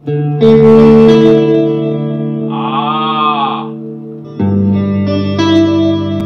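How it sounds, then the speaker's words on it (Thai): Electric guitar through a Fender Champion 100 amp on chorus plus reverb: a ringing chord with a wobbling, sweeping high bend in the middle, then a second strummed chord, all wrapped in a spacious, lingering wash. "ต่อไปเลยครับคอรัสบวกรีเวิร์บอ่าคอรัสคือเสียงหวานหวานรีเวิร์บคือเสียงก้องก้องเหมือนคุยในโอ่ง"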